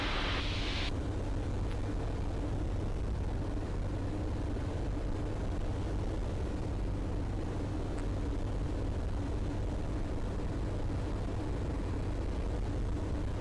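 A Eurofox microlight aircraft's engine drones steadily inside the cockpit on landing approach, a constant loud hum with no talk throughout.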